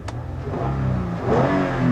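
The 3.5-liter V6 of a 2016 Toyota Camry XLE revs up smoothly from a low hum, its pitch climbing steadily and the sound growing louder over two seconds.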